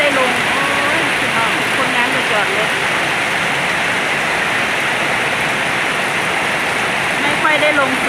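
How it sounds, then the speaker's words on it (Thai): Steady, dense rain falls in a garden, a constant loud hiss of drops on leaves and surfaces, with a voice faintly audible beneath it. "เสียงฝนบรรยากาศฝนตกสายฝนมาให้ชมกันนะคะ"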